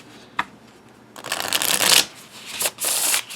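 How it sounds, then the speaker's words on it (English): A deck of smooth-finish tarot cards is shuffled by hand, one quick riffle snap followed by two longer, loud close bursts of fluttering, sliding cards, with no talking. "So let's give it a shuffle and see."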